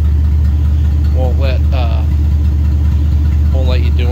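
A junk Jeep Cherokee stuck in transmission limp mode idles with a steady low engine rumble throughout, close by, while someone speaks briefly over it.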